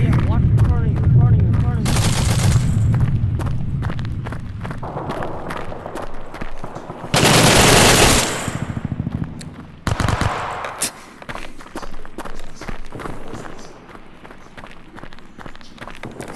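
Bursts of close-quarters machine gun fire in a first-person shooter video game, loud rapid volleys alternating with footsteps and running, with voices talking intermittently.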